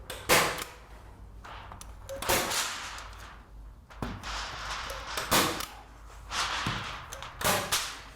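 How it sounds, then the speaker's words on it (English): A staple gun fires repeatedly along the edge of a pallet smokehouse box, sharp close snaps at uneven intervals, roughly seven shots, with faint handling noise between them. "We're just going to staple along this edge to start off with."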